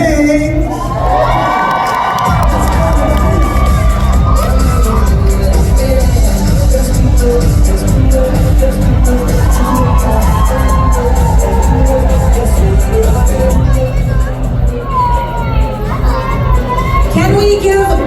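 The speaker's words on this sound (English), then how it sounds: "Can we give all these honorees in 2010 another huge round of applause?" At a Hmong American music anniversary event, a large crowd cheers, whoops and applauds loudly and continuously for honorees, with many voices shouting together throughout.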